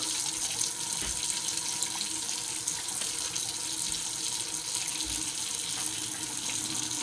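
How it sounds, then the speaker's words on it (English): Hot water runs steadily from a tap into a bowl, a continuous close splashing hiss with no pauses and no talk. "We turn some hot water."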